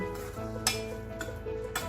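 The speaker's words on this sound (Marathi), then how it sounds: "आपण आता हे सगळं मिक्स करू" A spoon stirs microwaved vegetable curry in a dish, giving soft scraping and a few sharp clinks against the container at irregular intervals, close and fairly quiet with no talk.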